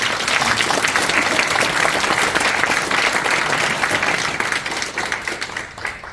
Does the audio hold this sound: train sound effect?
no